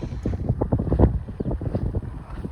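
Strong gusty wind blowing across an open farm field ahead of rain under dark clouds, roaring and buffeting the microphone in loud, uneven bursts with no voices.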